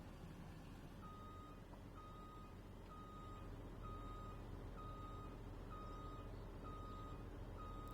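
Repeated reversing beeps from a truck backing up in Farming Simulator 19, steady evenly spaced tones over a low engine hum, no talking.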